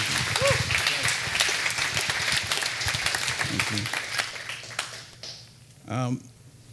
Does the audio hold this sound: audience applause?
yes